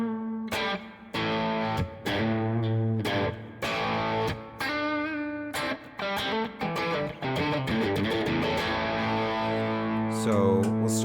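An electric guitar played dry into a GTX 100 amp with an overdrive preamp set for drive, giving loud, sustained distorted chords and riffs with short choppy breaks, close and dense, with no talking.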